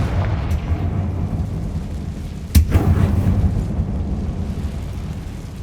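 A Confringo blasting spell going off in the game Hogwarts Legacy: one sudden booming explosion midway, set in a steady low rumbling background.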